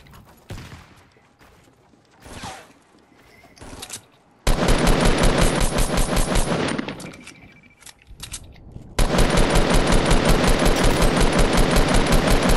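Rapid automatic gunfire bursts in a shooter video game, loud and sustained in two long stretches of dense, evenly spaced shots, with quieter sparse sounds and pauses between.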